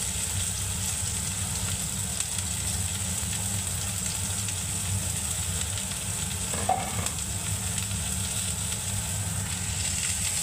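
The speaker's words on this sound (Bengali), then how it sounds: "এবার আমি এই আলু আর পেঁয়াজ কাটাটাকে ওর মধ্যে দিয়ে দিচ্ছি বন্ধুরা, দেখুন।" Cut potatoes and onions go into hot oil spiced with black cumin, raising a steady close sizzle that keeps up evenly with soft stirring scrapes and no talking.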